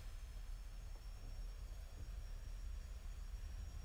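Simulated airliner engines at takeoff power on Salt Lake City's runway 34 right in the X-Plane 11 flight simulator; a steady, faint, continuous low roar with a thin high whine, and no talk.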